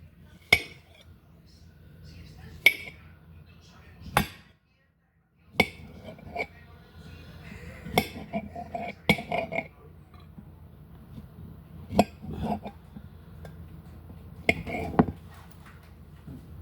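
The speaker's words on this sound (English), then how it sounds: "I'm gonna cut it into pieces. This is a butter knife." A butter knife cuts dragon fruit into pieces, making sharp, separate clinks and taps against a hard surface at an irregular pace, with soft handling noises in between.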